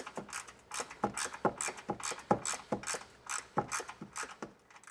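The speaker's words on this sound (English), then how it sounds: "run an M8x125 tap in here" An M8x1.25 tap ratchets through rusty, debris-clogged bolt threads on a 4Runner's tow hook mount, giving a steady run of close, crisp clicks in quick bursts with no talking.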